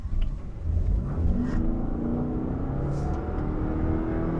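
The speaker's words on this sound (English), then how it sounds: "since we're in hybrid mode, I will be able to demonstrate the best acceleration time" 2021 Toyota RAV4 Prime accelerating hard in hybrid mode, heard from inside as a loud continuous engine drone with rising, stepped tones that climb through the gears, no talking.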